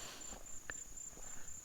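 Cicadas trill in a thin, steady high whine at sunset in the remote Australian outback, faint and continuous beside a parked four-wheel-drive, with a few soft scuffs and taps nearby.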